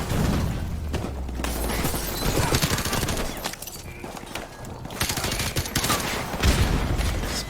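Automatic gunfire in Call of Duty Modern Warfare Remastered, loud continuous sprays of rapid shots mixed with explosions and heavy battle noise, running almost without pause.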